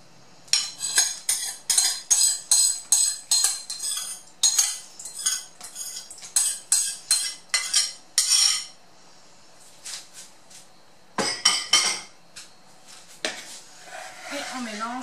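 Vegan chocolate muffin batter being mixed in a bowl with a utensil: a long run of quick, close scraping and clinking strokes, then a short pause and a few more bursts of stirring.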